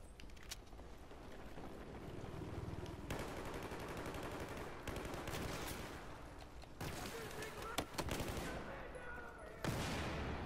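Gunfire in the shooter game Battlefield 4, with repeated shots and bursts spread across a dense battle mix, close and loud, while a voice talks over parts of it.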